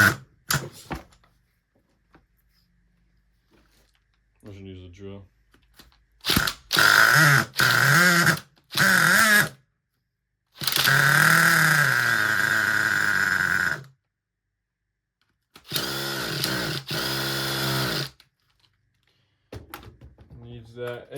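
A drill spins a seized nitro engine in an RC car, giving loud mechanical whirring and ratcheting bursts of a few seconds each, separated by silences, with brief speech in between.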